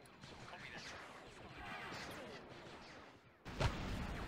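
A grenade in the Galaxy at War mod of Battle Simulator goes off as a sudden loud close blast near the end, following a stretch of scattered battle noise and faint talk.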